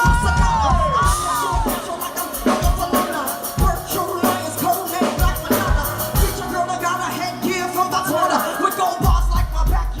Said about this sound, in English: The crowd was loving it.